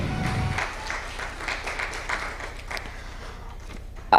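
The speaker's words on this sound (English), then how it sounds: "A round of applause for that video." Scattered, fairly soft applause from a small group, steady for a few seconds before trailing off.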